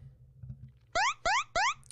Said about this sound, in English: That's why I've got the alarm.